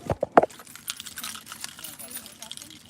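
A heavy bunch of keys jangles in a few sharp, close metallic clinks at the start, followed by softer rustling and handling noises beneath low talk.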